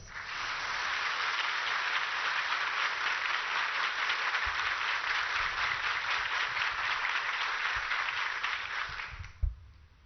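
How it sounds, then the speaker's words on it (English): A huge round of applause welcomes the Vice Chief of Naval Staff to give the opening address at a platinum jubilee celebration, steady and dense for about nine seconds before tapering off with a final thump. "Please join us to welcome Vice Chief of Naval Staff for the opening address with a huge round of applause."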